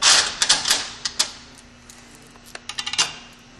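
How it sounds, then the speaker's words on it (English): Bolts threaded and dropped back into a C4 automatic transmission valve body, giving a string of sharp, light metallic clicks and ticks, some clustered in quick runs, close up with no talk. "We'll put the rest of the bolts back in."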